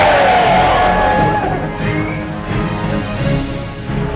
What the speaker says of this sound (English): the crowd bay for blood